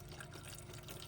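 Water flows from a newly fitted pump sitting down in a camper van's tank. It makes a faint, steady rushing hiss with no breaks and no voices.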